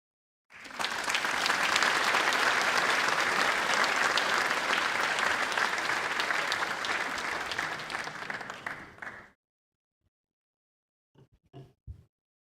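A large audience at the opening ceremony of a gas balloon race claps steadily for about nine seconds, a dense, even wash of applause that fades out, followed by a few faint knocks.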